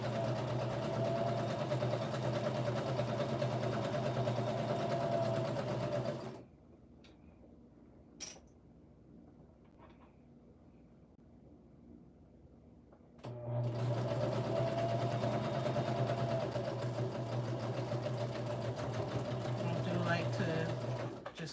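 A sewing machine stitches fabric with a steady close whir, stops for several seconds while a few small handling sounds are heard, then runs again to back stitch the last edge.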